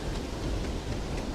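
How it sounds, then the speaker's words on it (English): Rain falling in the video game Starfield, a steady broadband wash of downpour with low rumbling, moderately loud and continuous, no voices. "Oh shit, it's raining."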